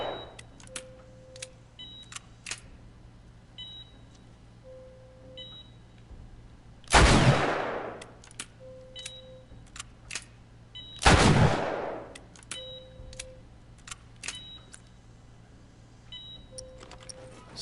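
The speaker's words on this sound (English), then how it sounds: "Alright, shoot the lights out." Two loud, sharp gunshots from The Last of Us Remastered ring out several seconds apart amid quiet game ambience with faint beeps, clicks and a low hum.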